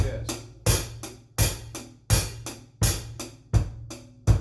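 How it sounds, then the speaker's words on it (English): A drum groove with the hi-hat opened on each beat, giving sustained washy hi-hat hits over a steady kick and snare pattern in a regular repeating rhythm, played close with no talking. "you're actually going to open the hi-hat so it sound like this"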